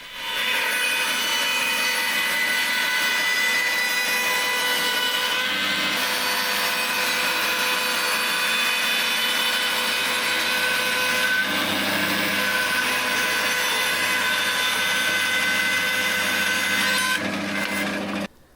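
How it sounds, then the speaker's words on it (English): Pallet wood boards ripped on a bandsaw, a continuous loud rasping cut with steady blade whine that runs for most of the stretch, with brief shifts in tone as the board feeds through before it stops. "I just ripped these down on the bandsaw"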